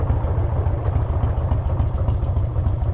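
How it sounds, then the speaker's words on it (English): A Harley motorcycle engine idles after an air filter change, a deep steady low rumble with a regular loping pulse, close and fairly loud, no talk. "the bike just sounds so much better. It's idling better, it's just running better."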